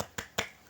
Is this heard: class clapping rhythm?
yes